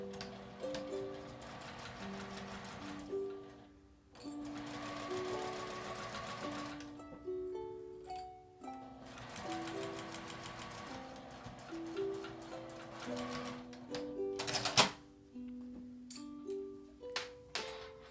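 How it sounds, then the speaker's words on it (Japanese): Sewing machine running in bursts while edge-stitching a cotton cut-cloth IC card pouch, steady rapid mechanical stitching with brief pauses between runs, close and clear with no talk. "縫い代は表側に倒して表側に端ミシンをかけます。"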